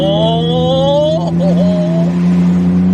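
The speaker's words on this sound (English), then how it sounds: "Listen to that exhaust go," A car's exhaust drones loudly and steadily as the vehicle pulls away and rises through the revs, with a gear change partway, on a road during a Midwest blizzard.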